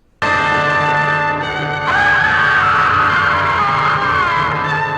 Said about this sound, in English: before he falls, you can hear him screaming and his lips aren't even moving